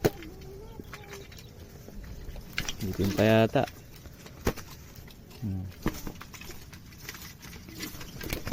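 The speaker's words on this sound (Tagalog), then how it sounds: "Dinig na dinig nyo naman sa huni nila mga kalapatids" Soft pigeon cooing comes in a short burst of throaty, repeated notes, then again more briefly, amid outdoor rustle and a short spoken phrase.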